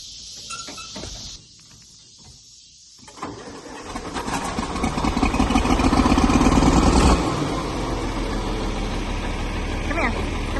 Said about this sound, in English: He's going to let this down with the tractor